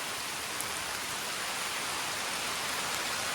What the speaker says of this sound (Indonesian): sekarang nih keadaannya lagi hujan deras banget ya